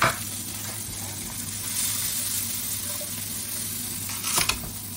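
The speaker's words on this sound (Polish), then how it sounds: "Teraz na tą patelnię wrzucam cebulę i podsmażam cebulę tu." Chopped onion sizzles in a frying pan that was just used for pork loin, a steady close hiss with a brief louder crackle near the end.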